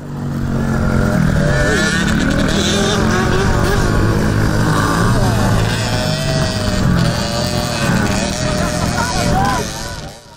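Small 50cc motocross motorcycles race around a children's track, engines buzzing and revving steadily and loudly throughout, with several bikes overlapping at once.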